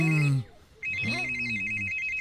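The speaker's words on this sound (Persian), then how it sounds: "متاسفانه موبایلم از بی موقع زنگ خورد" A mobile phone ringtone rings in a repeating beeping pattern of high electronic tones, heard briefly at the start and then continuing steadily under a voice speaking over it.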